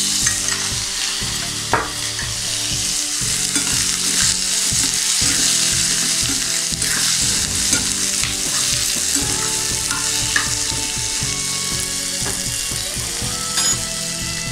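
A spoonful of oil sizzles in a pan, a steady frying hiss with intermittent scraping and clinking stir sounds throughout, fairly loud, under tonal background music.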